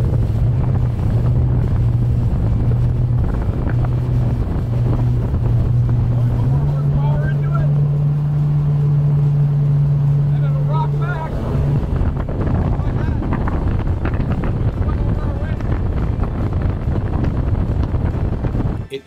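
An iKON LX21 motorboat engine drones steadily over wind buffeting the microphone, with the hull thumping across choppy lake waves throughout.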